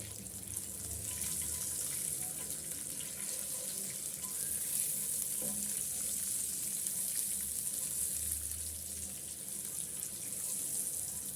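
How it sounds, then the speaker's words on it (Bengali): Eggs frying in oil in a pan while cooking cauliflower pulao with turmeric, a steady, close, continuous hiss and sizzle running unbroken throughout with no talking. "এখানে ডিমগুলো আমার ভাজা হয়ে গেছে"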